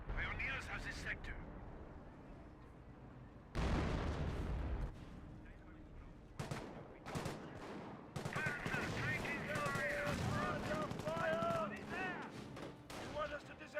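Booming artillery fire from 25-pounder guns in the Company of Heroes battle game, bursts of heavy blasts and crackling gunfire mixed with in-game unit voices and a commentator talking over the fighting.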